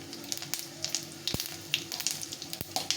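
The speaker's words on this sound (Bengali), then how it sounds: "আর একটু জিরে ফোড়ন দিয়ে দিলাম।" Cumin seeds and a dried red chilli sizzle in hot oil in a kadai, with close, irregular crackling pops over a soft, steady fry; no voices.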